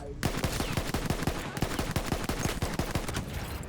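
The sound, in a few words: gunfire in the video game Battlefield 1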